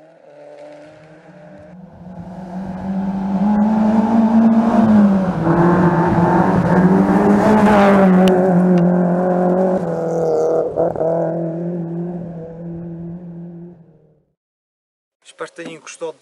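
A Peugeot 306 16S rally car engine, loud and close, rising into a sustained high-revving drone before cutting off abruptly near the end, followed by brief clatter.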